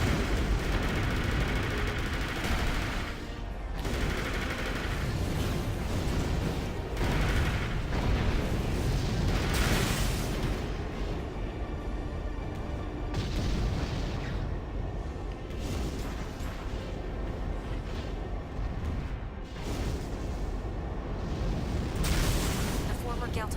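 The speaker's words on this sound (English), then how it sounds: "Keep an eye out for cannon fire." Fortress cannon fire and explosions in the mech video game Armored Core 4: dense, loud booming blasts and rumbling impacts filling the whole stretch, layered over continuous game noise, with voice chatter partly mixed in.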